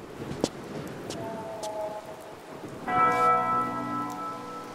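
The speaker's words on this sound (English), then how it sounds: "it's a bell from the beginning of the game" A bell in the Tomb Raider Chronicles video game rings out in one resonant, sustained strike with a long ringing decay, following a fainter tone over steady rain-like ambience.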